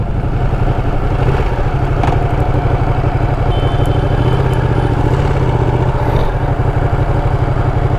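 Ducati Panigale 959 sport motorcycle riding onto a village road in Tamil Nadu, its engine a steady, loud, continuous drone close to the listener, with a few faint clatters and no talk.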